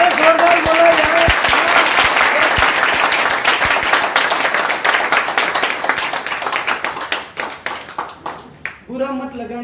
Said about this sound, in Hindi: भैया मास्क निकाल के जोरदार ताली के साथ आता